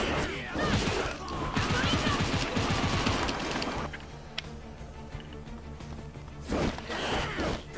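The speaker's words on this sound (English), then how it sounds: "I found out how to do Gatling." A Gatling gun attack in a video game rattles off in a rapid, dense burst of repeated shots, then fades to quieter game sounds before a second short flurry of impacts, with a voice talking at times.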